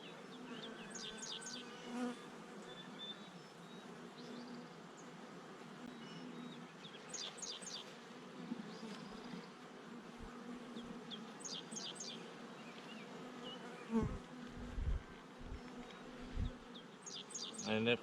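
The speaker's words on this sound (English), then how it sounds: "it's just a small bunch of bees" A small swarm of honeybees buzzes near a beehive in a continuous, fairly faint, wavering drone, while birds chirp in short bursts in the background.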